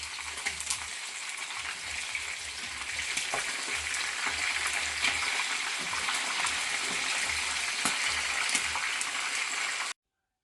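Escovitch fish fries in hot oil with a steady, dense sizzle and crackle, occasional sharper pops, until it cuts off abruptly.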